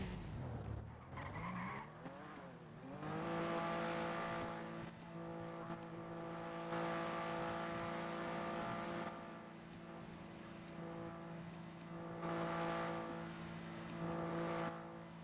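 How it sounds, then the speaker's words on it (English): Cars skid and drive through a NoPixel game world, a loud steady engine drone with tire squeals that swells and fades over fifteen seconds, a quiet voice briefly heard at the start. "These cars sound so funny."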